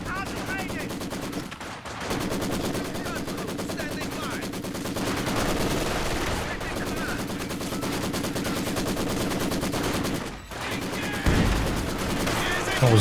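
Company of Heroes 2 battle audio: a dense, continuous barrage of rapid machine-gun fire and explosions from a 2v2 match, loud and relentless with only brief gaps, heavy impacts thudding in near the end.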